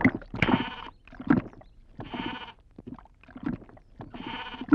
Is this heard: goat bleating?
yes